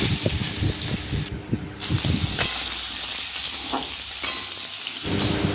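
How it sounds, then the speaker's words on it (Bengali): Potatoes frying in a pan after cumin tempering, a continuous hissing sizzle with rhythmic stirring knocks early on, then a steadier sizzle with a few sharp clicks. "দেখো এখন আলুগুলো ভাজতে দিয়ে দিয়েছি"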